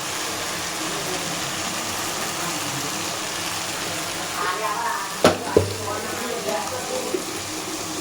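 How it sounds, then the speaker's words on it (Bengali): Spice masala with turmeric frying and being stirred in a pan, a steady broadband sizzle throughout with a couple of sharp scrapes or clanks near the middle and soft stirring noises after. "এবার ভালো করে মশলাটাকে সুন্দর করে কষিয়ে নেব।"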